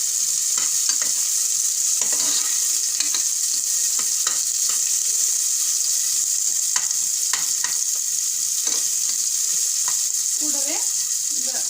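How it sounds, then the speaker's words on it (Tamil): Chopped onions hit hot oil and fry with a loud, dense, continuous sizzle close up, punctuated by scattered stirring clicks and scrapes throughout. "இந்த எண்ணெய் சூடானோடனே கட் பண்ணி வச்சுருக்க இந்த வெங்காயத்தை நம்ம போட்டுக்கலாம்"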